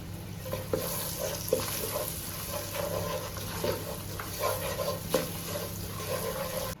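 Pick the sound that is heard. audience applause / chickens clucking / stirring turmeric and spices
stirring turmeric and spices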